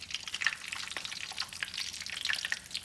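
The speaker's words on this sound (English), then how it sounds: "And listen to that sizzle." Chicken sizzles and crackles steadily in a hot frying pan, close and bright, with dense popping spatters and no voices.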